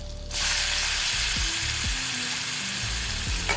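Onion added to hot oil already holding cumin and green chilli gives a loud, continuous close sizzle that flares up at the start and holds steady, with a low tonal hum from the stove underneath and no talk.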